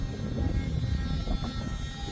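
Low, steady droning hum from a drone overhead, continuous and rumbling with a faint higher whine, moderately loud with no clear breaks, heard outdoors near a broadcasting headquarters.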